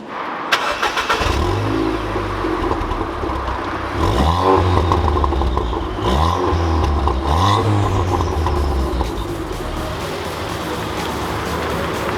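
A 300hp Ford Fiesta ST with a short shifter drives hard, its engine loud and close from inside, revving up repeatedly through rising sweeps between gear changes.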